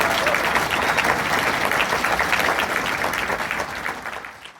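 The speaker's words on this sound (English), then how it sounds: "I want to if we can all give them a round of applause" A big crowd at a haunted house industry awards gathering applauds the actors and team, a loud continuous wash of clapping that holds steady and then tails off slightly at the end.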